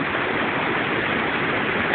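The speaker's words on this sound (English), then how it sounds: "It goes down to White Rifle Falls." Water pouring steadily over White Rifle Falls, a dense, continuous rushing hiss with no breaks or voices.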